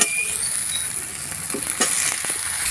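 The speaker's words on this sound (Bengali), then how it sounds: "এবার এর মধ্যে ভেজে রাখা পটল আর আলুগুলো দিয়ে দেবো" Fried pointed gourd and potatoes tumble into a pan of spice paste frying in oil, giving a steady close sizzle with a few brief scraping and clattering bursts near the middle.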